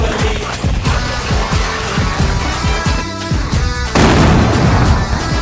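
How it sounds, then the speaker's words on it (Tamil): Diwali atom bomb firecrackers go off in a rapid string of loud, close booms, repeated sharp blasts tumbling over one another with a denser burst near the end. "இந்த அணுகுண்டெல்லாம் போட்டு வெடிக்காங்க"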